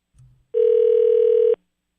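Telephone call tone on a line being dialled, a brief faint rustle then one steady loud ringback beep lasting about a second before cutting off cleanly, heard alone in quiet.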